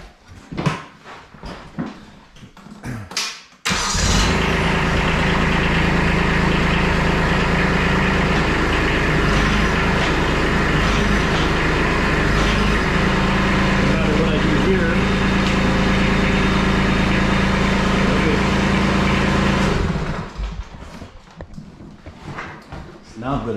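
An L435 skid-steer loader's diesel engine cranks, catches and settles into a loud, steady idle that runs close and continuous for about sixteen seconds before cutting off, with handling noises around it.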